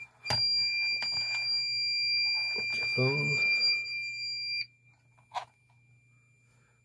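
A digital thermostat buzzer on a water-tank temperature controller sounds a steady, loud, high-pitched tone for about four seconds and then cuts off, while a person talks over it nearby.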